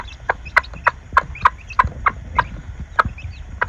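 Young chicks raised on black soldier fly larvae give a run of about ten short, evenly spaced calls, close and fairly loud, over low scratching and shuffling noise, with no voices.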